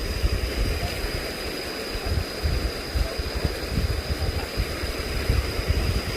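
Water from a waterfall flows past through a garden, making a steady, close rushing and gurgling sound with a thin constant high-pitched whine running underneath.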